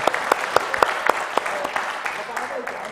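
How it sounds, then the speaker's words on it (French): Applause for Mehdi at an entrepreneurs' awards event, with sharp individual claps standing out in a steady rhythm over a lighter crowd patter, thinning out toward the end. "Encore un tonnerre d'applaudissements pour Mehdi"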